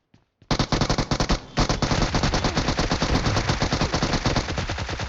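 Sustained automatic gunfire in a battle royale shooter game, a loud, rapid stream of shots that starts with a couple of bursts and then runs continuously without a break.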